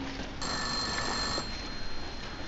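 A telephone rings in a Russian psychological horror game, a steady electric bell ring that starts abruptly and holds for about a second before stopping, heard alone over faint background hum.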